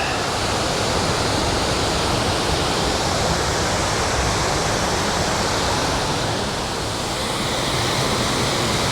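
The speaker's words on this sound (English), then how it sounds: "But it is a beautiful waterfall." Sgwd yr Eira waterfall in the Brecon Beacons woodland pours in a dense, steady roar, loud and close, with no break.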